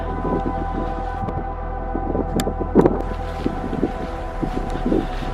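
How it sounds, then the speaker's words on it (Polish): Gusty wind buffets the microphone outdoors at the edge of a forest, with a steady low rumble and a few stronger gusts swelling throughout. "Trochę wieje."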